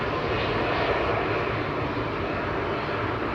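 A Jet2 Airbus A321neo, registration G-SUNV, touches down and rolls out on the runway at Manchester Airport after arriving from Funchal, its engines producing a loud, continuous broadband roar that holds steady throughout.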